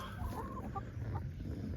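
Chickens cluck softly nearby in a few short calls over a low background hum, fairly quiet.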